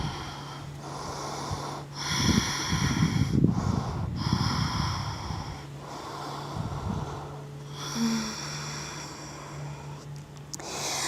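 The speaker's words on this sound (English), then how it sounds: "Taking 3 more deep breaths here." Slow, deep breaths during a yoga pose in a calm chakra flow session, drawn in and released steadily over several seconds, moderately close and fairly soft, with a low steady hum underneath and no talking.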